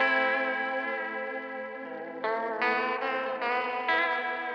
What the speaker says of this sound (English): this weird warble that it does, which is not regular like a chorus or something